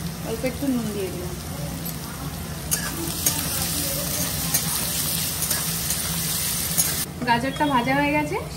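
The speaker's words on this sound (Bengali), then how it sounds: "গাজরটা ভাজা হয়ে গেছে, সেদ্ধও হয়ে গেছে" Carrots fry in oil in a pan, a constant close sizzle with light stirring, while a person speaks briefly at the start and again at the end.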